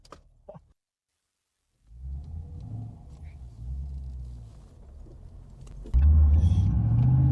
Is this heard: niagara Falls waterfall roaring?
no